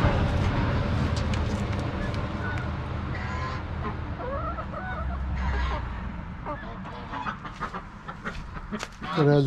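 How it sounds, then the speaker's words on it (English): Chickens cluck and call at a farm in Tennessee, scattered clucks and a few louder squawks over steady outdoor background noise, some near and some farther off. "There's more chickens."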